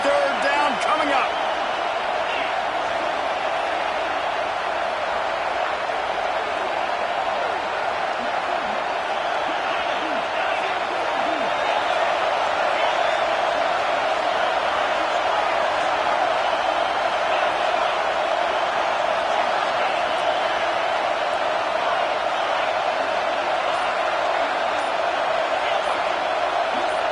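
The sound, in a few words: stadium crowd noise in college football video game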